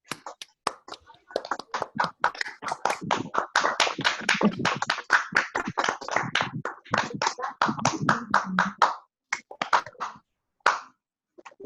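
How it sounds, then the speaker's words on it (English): Members of an online club meeting clap together in a round of applause, many overlapping hand claps from different microphones building into a dense patter, then thinning out into a few scattered claps. "can we all unmute ourselves for a while and have a huge round of applause for all those members who have ever been associated with the club?"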